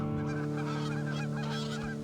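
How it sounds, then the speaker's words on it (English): Geese honking repeatedly in a close, loud flock chorus, overlapping calls continuing steadily throughout with no talk. "Ducks and geese travel through the area when it comes time for their migration"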